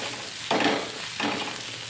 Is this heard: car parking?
no